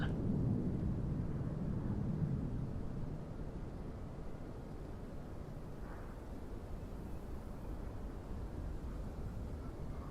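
Distant rumbling roar of a big jet airliner taking off in Microsoft Flight Simulator 2024, a steady low broadband drone that swells early and then holds at a slightly lower, even level.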